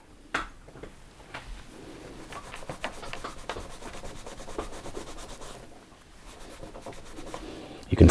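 Composite cleaning pencil rubbing back and forth over a small waxed Georgian coin, a steady close scratchy scrubbing with brief pauses, fairly quiet throughout.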